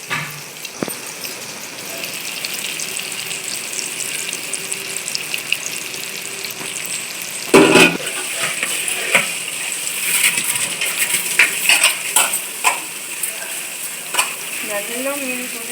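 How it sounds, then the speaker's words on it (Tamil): Fish frying in boiling oil for a village-style fish curry, a continuous bright sizzle with crackles and occasional stirring or clattering bursts, close and steady throughout. "நல்லா எண்ணெய் கொதிச்சு அப்படியே மீனை போட்டோன்னே பாருங்க"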